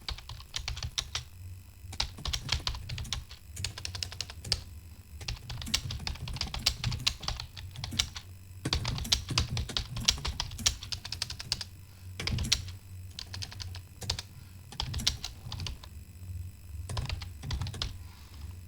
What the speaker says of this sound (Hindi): इसको जब खोल लेंगे इसमें टाइप भी कर सकते हैं